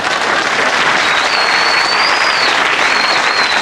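Steady, loud studio audience applause keeps going on a television panel show, dense clapping filling the space throughout, with a faint thin whistle-like tone threading through it.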